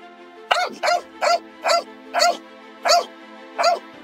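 A dog barks seven times in an even, rhythmic series during an outdoor hike, each bark loud, close and sharp against a faint steady background hum.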